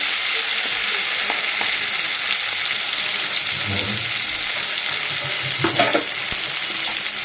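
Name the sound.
cardamom frying with potatoes in oil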